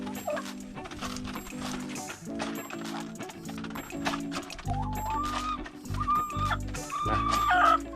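Chickens cluck repeatedly in a garden at evening egg-collecting time, with several close, loud calls layered over steady tonal background sound and occasional sharper squawks toward the end.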